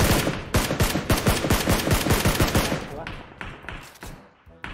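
Rapid automatic gunfire in PUBG Mobile as a player shoots a teammate, dense bursts of loud close shots for about three seconds, then thinning to scattered distant shots, with voices faintly underneath.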